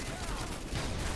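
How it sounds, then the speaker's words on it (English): Grenade blast in Call of Duty Modern Warfare 2, a short dense burst of explosive noise amid chaotic gunfire-like crackle, moderately loud and filling the whole moment. "That was a grenade."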